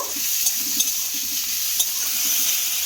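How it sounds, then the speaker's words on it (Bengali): Diced potato is stirred into sattu in a pan, with soft scraping strokes and a couple of sharper clicks over a gentle background sizzle. "এই আলুটাকে আমি দিয়ে দেব দিয়ে খুব ভালো করে এইভাবে মিশিয়ে নেব"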